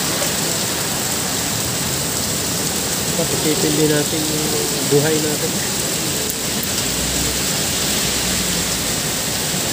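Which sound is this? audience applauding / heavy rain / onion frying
heavy rain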